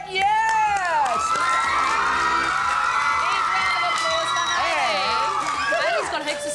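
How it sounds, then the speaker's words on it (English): A studio audience of children at a kids' TV game show cheers, shouts and whoops loudly for several seconds, with scattered applause mixed into the excited crowd noise. "Big round of applause for Hayley."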